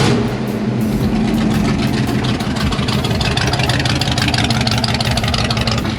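A 350 V8 car fitted with side pipes idles steadily after start-up, a loud, continuous rumbling burble with a constant lumpy pulse throughout, no talking over it.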